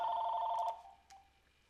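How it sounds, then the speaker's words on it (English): A telephone rings with a trilling electronic bell, one burst that cuts off partway through, followed by a faint click and quiet room noise. "should I pick the phone up?"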